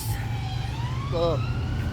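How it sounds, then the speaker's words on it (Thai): A police car siren wails on a street in England, its rising and falling tone carrying over steady traffic rumble and remaining clearly audible but not close. "เอารถตำรวจไม่ใช่รถแอมบูลัน"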